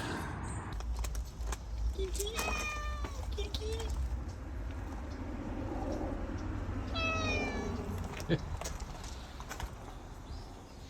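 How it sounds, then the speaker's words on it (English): A domestic cat at an old manor house in England meows twice in clear, drawn-out calls against steady background hum, with faint key jangling and a person talking briefly nearby. "That's an English kitty."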